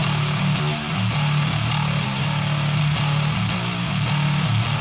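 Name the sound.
morphed chainsaw and lawnmower grinding bass tone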